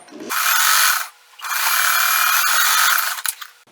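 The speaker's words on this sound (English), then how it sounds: "Sew down the edge." Sewing machine stitching down a fabric edge for a wonky nine-patch quilt block, two loud close mechanical whirring runs separated by a brief pause.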